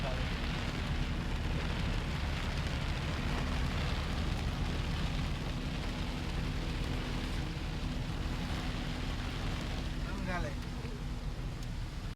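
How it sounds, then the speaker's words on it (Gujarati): Heavy rain pours steadily onto the windshield glass of a truck cab on a Surat-to-Kerala run, a dense, continuous wash of drumming with a low rumble beneath it throughout. "વરસાદનો અવાજ સંભળાવો તમારે, કાચ ઉપર અવાજ પડે એવો વરસાદ."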